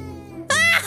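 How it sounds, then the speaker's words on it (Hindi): A baby cries in the video game Cat's Secret, a single sudden wailing burst that starts loud and holds for about half a second, coming after a quieter stretch of game sounds. "ओके अब ये बच्चा रो रहा है,"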